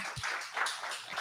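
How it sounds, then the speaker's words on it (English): Meetup audience gives a warm round of applause for two presenters, a dense, steady patter of many hands clapping from a roomful of people, moderately loud and continuous. "So warm round of applause for these guys."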